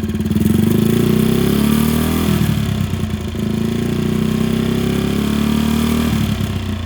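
Honda 50 C100 engine running with a reproduction muffler, a loud, steady idling putter close by with a slight rhythmic shift partway through.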